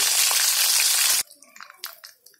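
Chicken pieces frying in oil in a homemade Marathi-style recipe, a loud dense sizzle for over a second that cuts off abruptly, leaving faint scattered kitchen clatter.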